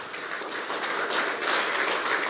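Church congregation applauding together, a dense, even wash of many hands clapping at close range, continuous and fairly loud throughout, with no voices standing out.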